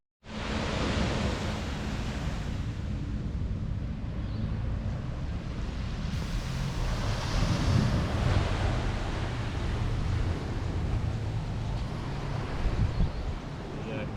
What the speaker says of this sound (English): Just down here at Scarborough, down on the point, down on the beach.